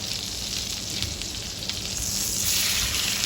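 A 1 cm steak frying in a pan gives a steady, close hiss and crackle of sizzling fat throughout, growing slightly louder toward the end.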